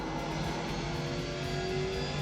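A stock car engine in the iRacing simulator at Southern National Motorsports Park, a steady, fairly quiet drone that holds an even pitch for a couple of seconds.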